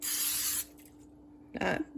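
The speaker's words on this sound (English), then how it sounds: "I'm just going to take a little bit of cooking spray" A short hiss of an aerosol cooking spray, followed by a pause, then a second, briefer spritz nearby.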